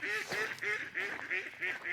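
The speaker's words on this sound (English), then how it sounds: "around 200 mallard flight into the duck pond at the entrance to the farmyard every evening" Mallard ducks quack at a farmyard duck pond where about 200 of them fly in each evening. Repeated nasal quacks come in a steady rhythm, close and clear, with no voices.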